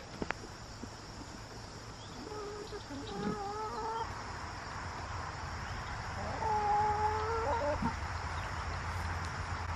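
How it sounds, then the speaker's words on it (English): Several chickens cluck and croon in drawn-out, wavering calls at moderate distance over steady outdoor background noise, with no talk. "Here come the chickens."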